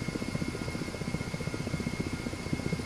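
The Ka-50 Black Shark coaxial helicopter in the DCS flight simulator drones from the cockpit with a steady, fast rotor thump and a constant high turbine whine, loud and alone.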